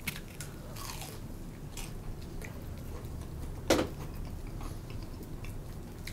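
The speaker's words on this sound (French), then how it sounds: "je suppose que vous l'entendez, le croustillant à l'extérieur" A single crisp crunch as someone bites into a fried pulled pork coxinha, one short sharp bite standing out near the middle against a quiet kitchen background.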